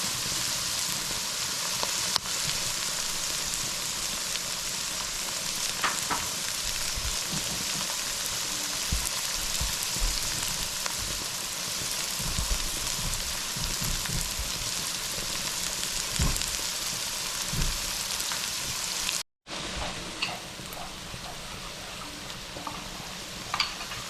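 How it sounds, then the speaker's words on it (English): A pan of sautéed ingredients for chicken curry sizzles steadily with a constant hiss of frying, with occasional stirring clicks and a brief cut of silence near the end. "So we're gonna let that cook up for a few minutes."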